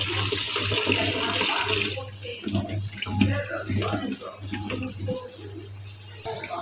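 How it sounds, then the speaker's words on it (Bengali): Tap water runs steadily while potatoes are rinsed in a home kitchen, a broad continuous rush with some clatter, and voices talk through much of it over a low hum. "বললাম আমাকে আলুগুলো আরেকবার একটু ধুয়ে দিতে"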